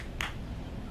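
A single sharp hand clap bursts out briefly and alone against a quiet background, in a first-time reaction to Babylon 5's "Infection" episode.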